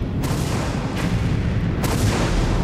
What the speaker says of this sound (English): The ship exploding